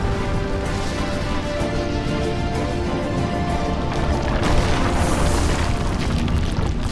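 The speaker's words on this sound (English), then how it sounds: "The Well's destruction resulted in a massive explosion that tore the world apart." A massive, sustained explosion from the Well's destruction in WarCraft 3, a dense booming rumble that swells louder toward the end.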